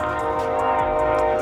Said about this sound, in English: it's a train going by too